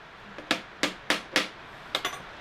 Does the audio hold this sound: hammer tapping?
yes